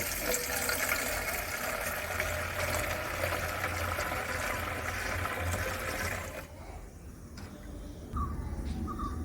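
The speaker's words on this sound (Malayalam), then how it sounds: "ഇനി ബാലൻസ് 3 ലിറ്ററും കൂടി ഇതിൽ ചേർത്ത് കൊടുക്കാം" Water pours steadily into a one-litre paint container, a continuous close gushing stream that stops partway through, leaving quieter dripping and faint handling sounds afterward.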